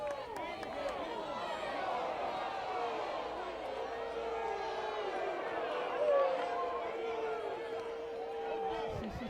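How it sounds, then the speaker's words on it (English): A hometown softball crowd fills the stands during an NCAA regional game, a steady wash of chatter and cheering that swells slightly midway, with commentators talking over it. "There's that hometown crowd."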